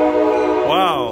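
A passing train sounds a loud, sustained horn close by at an outdoor comedy show, its pitch bending briefly toward the end as the blast fades.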